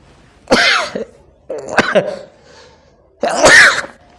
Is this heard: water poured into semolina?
no